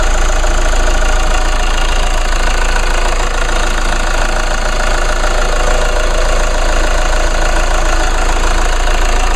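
A 2014 Chevrolet Cruze's 2-liter four-cylinder turbo diesel engine idles loudly and steadily up close, with a constant low rumble and a clattering knock throughout.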